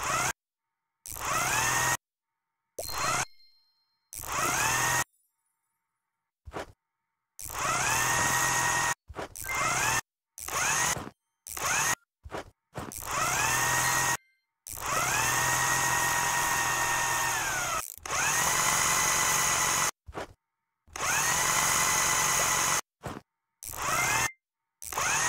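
A power drill in the video game House Builder drives screws in a long run of loud, close whirring bursts, each a second or two long, separated by short silences.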